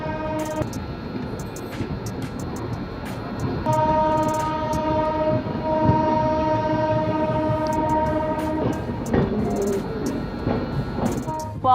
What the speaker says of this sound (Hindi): फाइनली 5 मिनट हॉल्ट के बाद अपनी ट्रेन का डिपार्चर हो चुका अपनी गाजीपुर सिटी रेलवे स्टेशन से